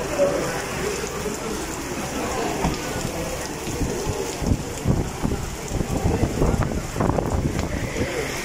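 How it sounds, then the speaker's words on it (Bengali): Heavy rain pours outside a Carrefour at a shopping centre in the UAE, a steady dense wash of drops with gusty wind buffeting the microphone and louder splashing bursts toward the end. "এরকম বৃষ্টি আসলে দেখা যায় না ইউএইতে।"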